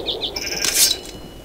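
A Minecraft sheep bleats close and clear in a few short nasal calls, with faint game ambience underneath.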